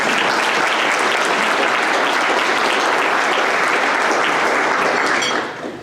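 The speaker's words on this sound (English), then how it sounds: "Let's give them a round of applause" An economic summit audience gives a sustained round of applause for the chamber of commerce team, a thick, even roar of clapping from a large room that holds steady and then fades near the end.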